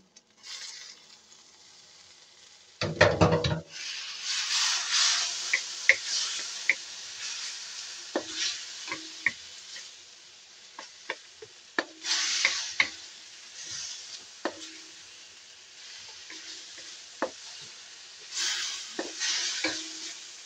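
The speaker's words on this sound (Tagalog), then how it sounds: "At ilagay na natin ang ating pork giniling." Ground pork drops into a hot pan with a sharp burst, then a steady sizzle of frying meat runs throughout, broken by scattered utensil scrapes and taps, for a Kapampangan-style tortang giniling with shrimp.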